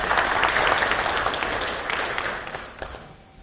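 An audience at a Korean legislative seminar applauds a law professor's talk, a dense sustained round of clapping from many hands that holds steady and then tapers off toward the end.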